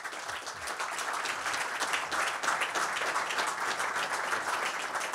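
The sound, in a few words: audience applause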